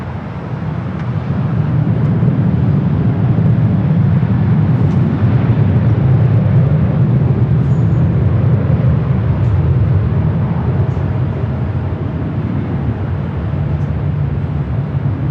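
A United Boeing 737 airliner on short final to runway 24 right at Los Angeles airport, a steady loud low jet roar that stays constant throughout without interruption.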